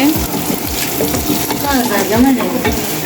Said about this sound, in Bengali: এখন হচ্ছে ভেজিটেবল রান্না হচ্ছে।